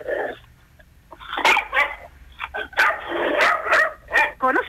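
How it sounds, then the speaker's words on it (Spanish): Several dogs barking indoors around feeding time, sharp bursts of overlapping barks and yips with some whimpering, close and loud, with people talking between them. "Ahí ladran. Ahora ladran."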